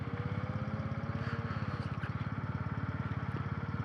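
A Kawasaki W800 motorcycle with its old-school bevel-gear engine idles close by, a steady low, even pulsing throb that runs unbroken with no voices over it.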